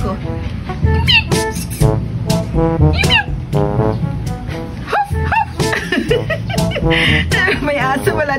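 A domestic cat meows repeatedly in a home, several short rising and falling cries scattered among people talking and chuckling nearby.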